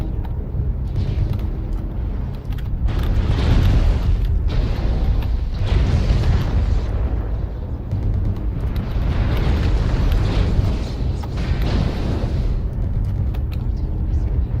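Artillery strike explosions in the MechWarrior Online mech combat game: a sustained run of heavy, rumbling booms and blasts rolling continuously for the whole stretch, loud and dense with little pause between impacts.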